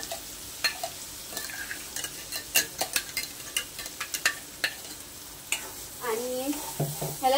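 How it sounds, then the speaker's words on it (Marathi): Ground masala paste with red chili powder fries in hot oil for an egg curry while a spoon stirs it, giving a steady sizzle marked by repeated sharp scrapes and taps against the pan. "तेल सुटेपर्यंत आपल्याला चांगलं भाजून घ्यायचं."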